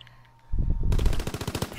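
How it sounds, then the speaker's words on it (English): Machine gun fire in Call of Duty: WWII, a sudden loud burst of rapid automatic shots after a quiet lead-in, then a steady pulsing string of rounds close by. "Yeah, we're using machine guns."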